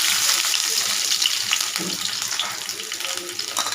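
Garlic frying in a pan in a home kitchen, a dense, steady sizzle close up with faint clinks and stirring beneath it.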